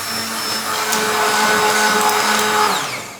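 A hand blender whirs steadily through hot plum jam cooking on a fire, a loud close motor drone with shifting whine as it mixes, running for about three seconds before winding down.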